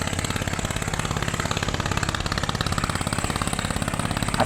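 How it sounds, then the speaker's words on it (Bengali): A trawler or launch engine chugs on the Buriganga river in Dhaka, a steady rapid diesel thumping with a mid-range drone, close and continuous with no voices. "আর এই জায়গাটায় আপনি থাকলে আপনি শুনতে পাবেন সব সময় ট্রলারের শব্দ, লঞ্চের শব্দ"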